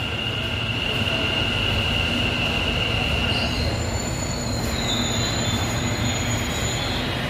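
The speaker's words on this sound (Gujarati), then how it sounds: "મેટ્રો આવી ગઈ" A metro train rumbles steadily close by at an Ahmedabad metro station, with a high wheel squeal rising partway through as it rolls along the platform.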